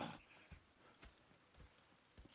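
Horse hooves clip-clop in Red Dead Redemption 2, several faint, evenly spaced hoofbeats landing about every half second in a quiet scene with no voices.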